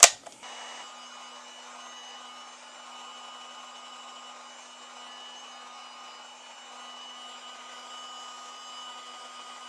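A heat gun blows a steady, even rush of hot air onto the back cover of a Google Pixel 7a. The sound starts abruptly and holds close and constant for nearly ten seconds, with no talking.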